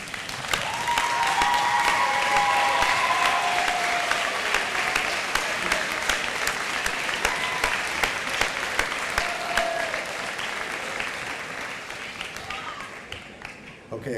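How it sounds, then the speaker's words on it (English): A graduation ceremony audience of the Angola, Indiana high school class of 2009 applauds loudly and steadily for about fourteen seconds, a dense crowd wash with a few faint voices and whoops inside it, easing slightly near the end. "would you join me in recognizing with your applause all these people in this audience today"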